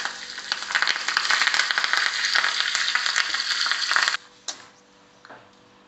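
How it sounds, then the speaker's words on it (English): Mustard seeds spluttering in hot oil for a tempering for coconut chutney, a dense, loud crackling sizzle with rapid pops that cuts off abruptly after about four seconds, followed by a few scattered pops and a quiet tail. "Once it starts spluttering, you can give a little hing."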